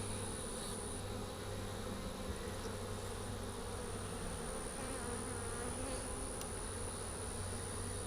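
Honey bees buzzing inside an open long hive, a dense continuous hum with a steady low drone and a faint high whine, close and even throughout, with no talking.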